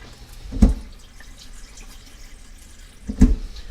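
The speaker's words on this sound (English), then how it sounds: "I'm going to drain those out and rinse them." Canned French cut beans being drained and rinsed under a kitchen tap, with two brief splashing bursts of water a few seconds apart and quiet running water in between, close up and without talk.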